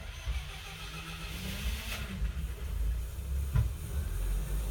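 A KapaLua generator, started by holding its push button, fires up into a low, rumbling engine drone. It sounds fairly faint and steady, with a small knock partway through.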